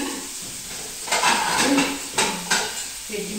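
Tofu frying in a pan while breakfast is heated, with steady sizzle and hiss under scraping and clinking of a utensil against cookware, several louder stirring clatters close by.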